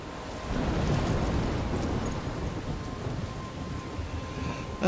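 Stormy weather in Life Is Strange, a dense, continuous roar of wind and crashing waves like a heavy downpour, fairly loud and steady with no voices.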